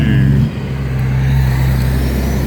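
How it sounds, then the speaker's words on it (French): A loud, steady rumble of a fire engine passing close by, with a deep engine drone filling the whole clip. "Voilà les pompiers qui passent."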